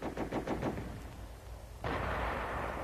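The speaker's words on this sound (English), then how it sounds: "What happens if the advance is held up by something like this enemy machine gun?" Enemy machine gun firing in a 1944 army training film on heavy machine guns in the attack: a run of rapid, loud bursts of shots, followed by a quieter pause and then a steady, noisy roar of continued fire.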